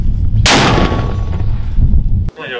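A 120mm mortar fires a single sharp, loud blast that rings out abruptly, followed by a lingering rumble and a brief voice at the end.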